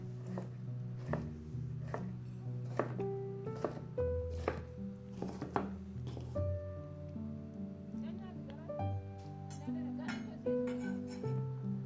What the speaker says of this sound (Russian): Одну паприку нарезаем.